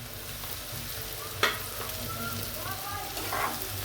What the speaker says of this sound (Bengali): আলুটাও ভেজে নেব